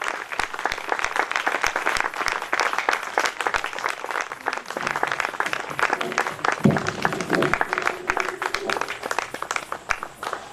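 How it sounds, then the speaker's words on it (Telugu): An audience at a church gathering claps steadily as a reverend walks onto the stage, dense continuous applause lasting the whole stretch with a faint voice rising briefly in the middle. "వారు వస్తుండగా మనం చప్పట్లు కొట్టుకుంటూ వారికి వేదిక మీద పిలుద్దాం"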